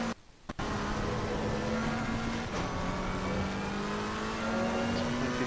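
A race car on its final lap in the video game Assetto Corsa Competizione holds a loud, steady engine whine after a brief quiet moment at the start, its pitch rising slowly as it accelerates.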